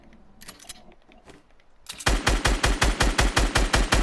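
Rapid automatic gunfire from a first-person shooter video game bursts in after scattered quieter shots: a steady, loud, evenly spaced string of about a dozen punchy reports, with no voices.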